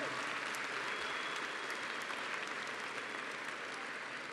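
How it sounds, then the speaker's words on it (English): Applause from seniors in a large venue at a high school graduation, a continuous distant hiss of many hands clapping, even and sustained. "would you give them a round of applause for all they've done for you?"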